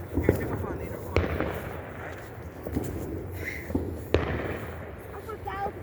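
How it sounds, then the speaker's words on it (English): New Year fireworks bursting outdoors, with a handful of distinct sharp bangs spaced over a continuous crackling rumble, mid-distance, with voices chattering throughout. "We're about to light the biggest firework in the world."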